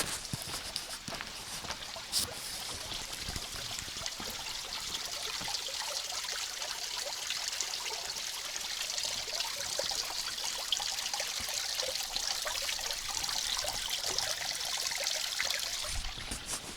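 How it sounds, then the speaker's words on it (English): Creek runoff flows steadily through an open space preserve in the foothills in winter, a continuous broad rushing and trickling of water, close and even throughout with no voices. "Still some creek water runoff happening now."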